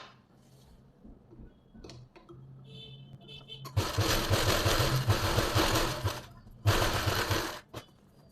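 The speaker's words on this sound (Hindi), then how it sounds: "अब बिल्कुल इसके पास से सिलाई लगाएंगे" A sewing machine stitches the neck of a pleated suit in two close bursts, a longer steady whirring run and a shorter one, separated by brief pauses and light handling clicks.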